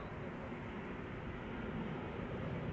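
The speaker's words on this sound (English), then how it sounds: "This is a 190 arriving from London City." An Embraer 190 airliner arrives from London City, heard as a constant broad roar of jet engine noise at an airport, with no voices.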